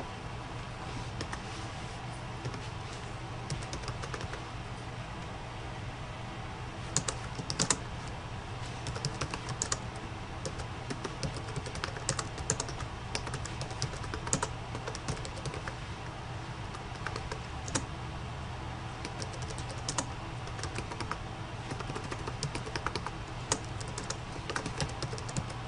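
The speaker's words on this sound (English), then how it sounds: "We are going to type in our title." Fingers type on a computer keyboard to enter a bar graph title, a close, continuous patter of key clicks over steady background hiss, with no one speaking.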